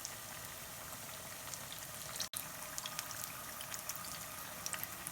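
Stuffed green chilli fritters (mirchi vada) bubbling in hot oil after being flipped, a steady close hiss of frying with small crackles throughout, briefly cut near the middle.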